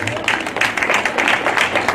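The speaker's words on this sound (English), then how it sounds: "I think you will clap for DVLA." An audience claps for the DVLA at the commissioning of a new office in Akatsi, a dense, continuous patter of many hands at moderate distance, with voices mixed in beneath.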